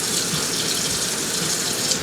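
Water running steadily from a kitchen tap in the Florida Keys, a constant close, loud splashing rush with no break.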